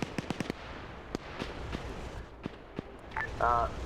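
Gunfire in a Winter War combat video game: a quick burst of sharp shots up front, then scattered distant cracks and thumps, with a few electronic beeps near the end.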